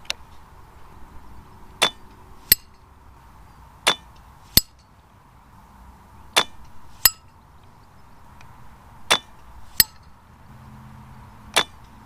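An air rifle slug from a sub-12 rifle strikes steel targets at 100 yards, giving about a dozen sharp, faint metallic clinks spaced irregularly over a quiet outdoor background.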